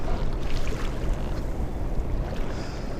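A fishing boat trolling slowly along an ocean beach, its engine a steady low rumble mixed with water and wind noise, continuous and fairly loud, with no voices.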